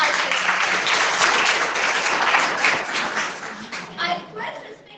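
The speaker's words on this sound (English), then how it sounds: "I request each and everyone to give a big round of applause for our director." A hall audience at a National Technology Day celebration at a science and technology institute applauds its director with steady, close clapping that thins out and tapers over the final second.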